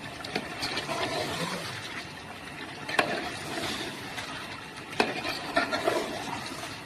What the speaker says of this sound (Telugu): ఎలా పక్క నుంచి కలుపుకుంటున్నానో ఆ విధంగా కలుపుకోవాలి